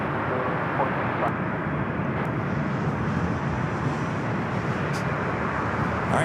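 Korean Air heavy airliner taxiing across runway 24 left at LAX, a continuous broad jet engine roar heard from a distance without letup.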